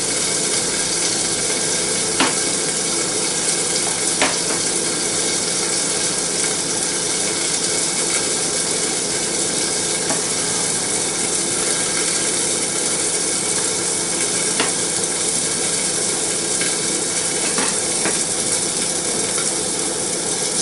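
Scrambled eggs sizzling in a pan in a steady loud hiss, with occasional sharp scrapes and taps of a stirring utensil, close and without speech.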